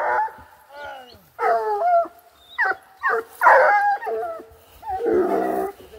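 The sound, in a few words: hunting dogs barking and whimpering during wild boar hunt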